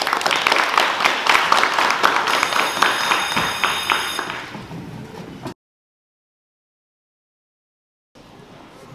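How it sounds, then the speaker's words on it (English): An audience at a youth theater skit performance gives a loud round of applause that fades out, followed by silence and then faint room noise. "Let's give them a final round of applause."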